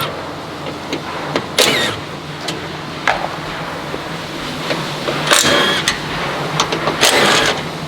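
On an Ineos Grenadier during a bull bar install, a power driver removes T50 Torx bolts. It gives several short, loud whirring bursts over a constant background hum, with no one speaking.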